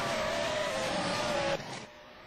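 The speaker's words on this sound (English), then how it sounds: "Out of the final turn comes Edouard Maliki." A race car in a racing video game roars out of the Bahrain circuit's final turn, its engine a loud steady drone under acceleration that abruptly drops as it shifts and pulls away.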